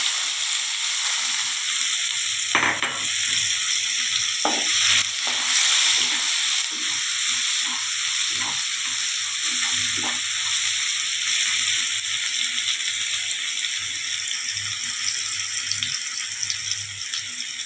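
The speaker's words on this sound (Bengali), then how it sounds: "কুচানো পেঁয়াজ দিয়ে দিচ্ছি।" Chopped onion sizzles steadily in a pan of hot oil with black cumin seeds while cooking a coriander katla fish dish, a constant close hiss broken by occasional clinks and scrapes of stirring, with no talk.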